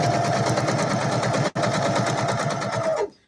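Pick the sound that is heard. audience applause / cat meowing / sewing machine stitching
sewing machine stitching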